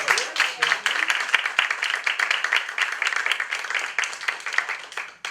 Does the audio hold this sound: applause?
yes